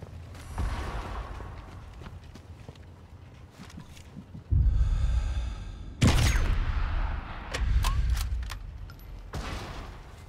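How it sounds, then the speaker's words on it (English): Gunfire in the Sniper Elite 5 video game: several sharp, loud shots with booming low-end tails ring out across a factory battlefield, separated by quieter stretches of ambient game noise. "That gunshot was heard by someone."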